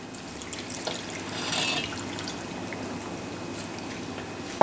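Apple cider vinegar pours into a cooking pot for a lychee and ginger chutney, a soft steady liquid stream running for several seconds at close range with no talk.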